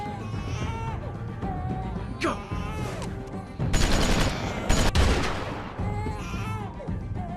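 Gunfire aimed toward the woods in The Walking Dead game, with bursts of sharp shots clustered in the middle among scattered cracks, mixed with voices and a tense background score.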